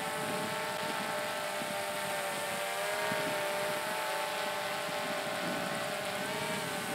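A drone used for fly fishing hovers with a steady, continuous high-pitched propeller whine and buzz, constant and fairly loud for the whole stretch with no talk.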